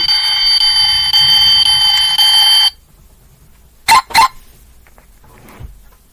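A car alarm blares a steady, shrill electronic tone for a few seconds, then stops abruptly, followed by a couple of short clicks in a quiet space.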